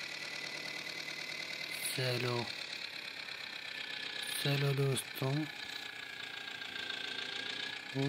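An orange mini tractor's engine idles with a steady mid-pitched chug throughout. Someone talks briefly over it in short bursts, and the engine stays audible beneath.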